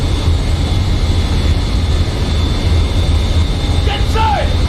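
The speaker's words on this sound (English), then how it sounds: "I love how the plane still takes off even after we were just shooting." Airplane taking off in the video game Kane & Lynch 2, a loud, steady engine roar and drone sustained throughout, with a brief vocal sound near the end.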